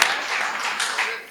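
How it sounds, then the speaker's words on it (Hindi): Audience applause for poet Yogita at a Hindi kavi sammelan poetry gathering, a brief burst of crowd clapping, moderately loud and diffuse, fading toward the end. "जोरदार तालियां एक बार योगिता के लिए बजाओ"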